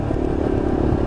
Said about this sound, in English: And my usual through the tunnel, the obligatory rev bomb.